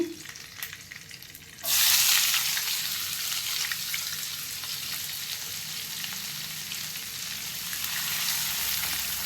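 Curry leaves and finely chopped onions drop into hot oil for mutton curry, bursting into a loud, steady sizzle after a quiet start and holding strong to the end, with no talking.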